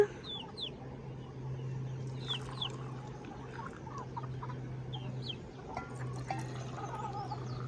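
Chickens cluck softly with scattered high cheeps from chicks, fairly distant, over a steady low hum and faint background noise.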